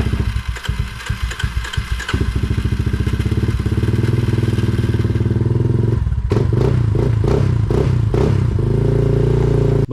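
A Raptor motorcycle engine is started on choke. The starter cranks in a rapid chatter and the engine catches into a loud, lumpy, uneven idle that steadies and then thumps harder near the end. It is close up and without talk.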